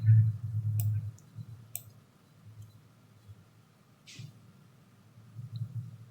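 Computer mouse clicking, a few sharp isolated clicks spread over several seconds, close and quiet, with a low muffled voice-like rumble underneath at the start and end.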